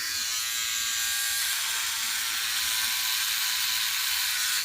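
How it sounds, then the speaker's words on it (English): An electric razor with a single blade buzzes continuously up close, a bright steady whir with slight shifts in pitch as it shaves upward across facial skin. "I'm shaving upward on my face, and here goes nothing."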